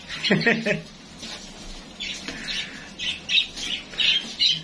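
A pair of pigeons coo and call back and forth at close range, with several short squawking bursts separated by brief pauses.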